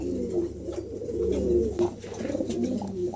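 A pair of Lahori pigeons kept for sale coo in low, rolling, repeated calls at close range, steady and soft with no talk over them.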